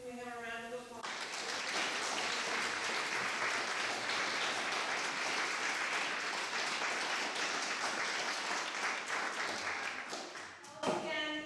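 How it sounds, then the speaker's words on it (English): An audience at a fireside talk with two authors applauds for them in a long, dense, steady round of clapping, with a voice talking briefly before and after it. "can we have a round of applause?"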